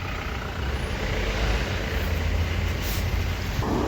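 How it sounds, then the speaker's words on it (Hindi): A vehicle coming along a road near Manali, a low engine rumble with faint hiss that holds steady at moderate distance without clear change, no voices over it. "वहाँ से आ रही देखो गाड़ी अपने"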